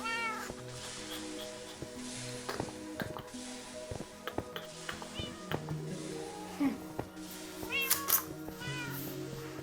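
Several cats in Minecraft meow repeatedly, some high and drawn out, over a soft background with faint clicks and light speech-like sounds.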